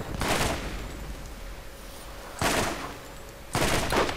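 Gunfire in Borderlands rings out in three separate loud bursts of rapid shots against an enemy, with quieter game ambience filling the gaps between them.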